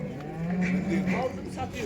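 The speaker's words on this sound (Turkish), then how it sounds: "Şöyle şurada bir tane arabada buzağlı bir inek var." A cow with her calf moos at a livestock market in Yıldızeli, Sivas, a single drawn-out low call rising and falling over the murmur of the market.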